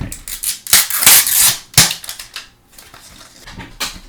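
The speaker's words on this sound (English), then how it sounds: "Alright, finally got the wrapper off." Plastic wrapper being torn and peeled off a Magic Mixies toy case, close crinkling and sharp snapping bursts in irregular spurts, quieter rustles between.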